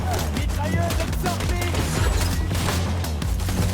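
Machine gun fire in Borderlands 2, dense, rapid bursts of shots packed into a loud, continuous clatter mixed with game effects and crashes, with no voice over it.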